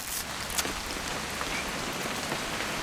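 Rain falls steadily in the video game What Remains of Edith Finch, a soft, even hiss of drops pattering on surfaces with scattered faint ticks, no voices.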